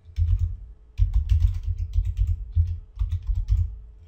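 Fingers type a username on a computer keyboard while logging on to a domain computer, a close, steady run of rapid key clicks in bursts with short pauses, and no talking.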